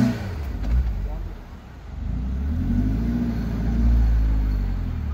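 A Maruti Baleno stuck in beach sand revs its engine with a deep, steady rumble that swells and eases over several seconds, while people talk nearby.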